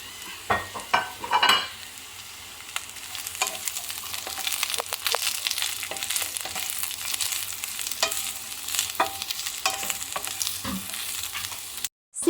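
Beef with scallions stir-frying in a hot pan, a continuous close sizzle with frequent scraping and tossing strokes of a spatula, fairly loud and steady with no voices.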